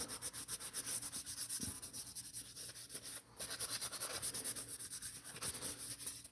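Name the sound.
sanding a model kit car body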